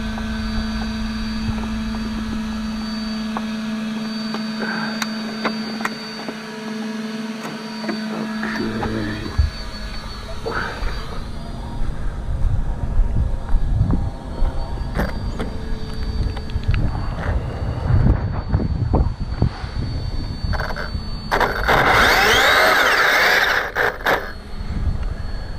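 An Arrma Kraton RC car drives to warm up its tyres, its electric motor whining and rising in pitch with bursts of acceleration, swelling to a loud high-revving run near the end.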